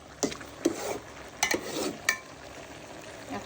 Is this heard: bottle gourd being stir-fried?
yes